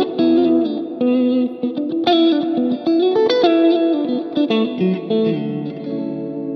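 Electric guitar played through a PedalPimps Attack overdrive pedal, Dumble-style tone, picking a thick but chimey melodic line of single notes and chords, close and loud, with no talking.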